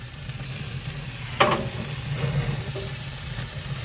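Tri tip meat sizzles on a smoker grill as it is flipped, a steady close hiss with a sharp scrape or thump at the flip, then continued frying, no speech.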